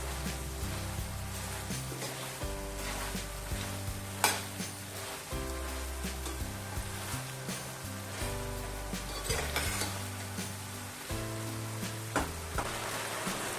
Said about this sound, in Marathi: हे असं तेल दिसायला लागलं ना म्हणजे आपले सोडे तळले गेले